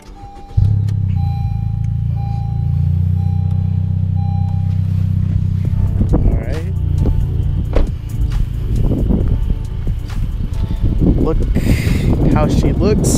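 A Honda Civic Sport Hatchback (FK7) engine idles with a low steady rumble, then revs and rises in pitch as voices talk over it nearby.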